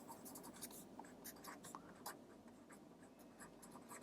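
Chalk or marker writes on a board in a lecture on non-inverting op-amp circuits, with steady rapid scratchy strokes, faint and close, and no talking.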